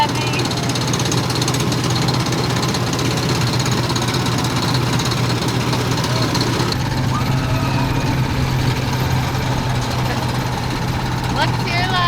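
A theme park ride car's small engine runs with a steady rattling chug throughout, close and loud, under faint background noise from the park.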